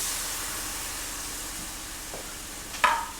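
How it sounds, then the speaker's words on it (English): Steady hiss of chicken broth poured into a hot pan, a continuous sizzle that fades slightly, with a brief clatter near the end. "And next is the chicken broth. Go ahead and pour that in."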